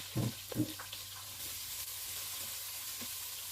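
Onion goes into hot oil left from frying fish for a fish and carrot sauce, giving two sharp sputtering bursts up front that settle into a steady, fairly soft sizzle.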